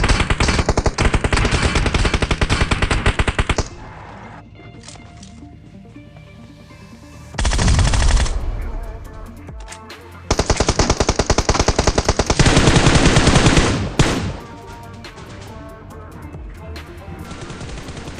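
Automatic weapon fire in PUBG Mobile during a solo-versus-squad match, loud sustained machine-gun bursts in several long volleys separated by quieter gaps with lower background game noise.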